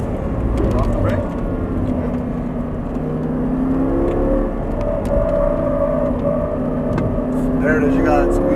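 An Audi R8 engine pulls hard under throttle on a track, a loud sustained drone that rises and falls, and voices can be heard talking over the noise from inside the car.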